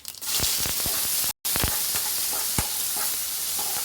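Cumin and mustard seeds sizzle in hot oil for cashew upma, a steady close hiss broken by sharp crackling pops, with one brief dropout near the start.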